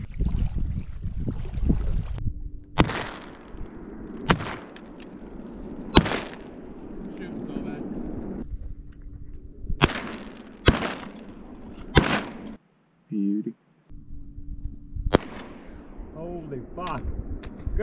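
Shotgun blasts ring out during a duck hunt over water with mallard decoys, about eight sharp, loud reports fired in irregular bursts, with a short duck call and low background murmur between them.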